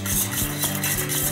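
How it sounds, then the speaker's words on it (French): Stiffly beaten egg whites being folded into sugar with a whisk for a caramel cake filling, a close, continuous rhythmic swishing with a light wiry rattle and no voices. "Et avec un fouet, allez incorporer le tout."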